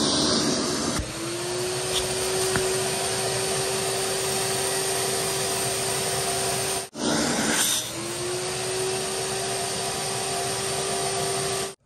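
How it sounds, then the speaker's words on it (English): A large 6.5 HP shop vacuum runs loud and steady with a constant whine. It cuts out briefly near the seven-second mark, then surges back up to a sustained roar. "So now let's hook up this big vacuum and see what this does."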